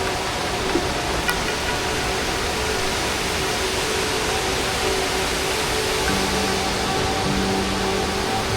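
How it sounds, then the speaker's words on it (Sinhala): Kirindi Ella waterfall near Pelmadulla, Ratnapura, a steady close roar of falling water, broad and unbroken for the whole stretch with no voices. "ලස්සනම දියැල."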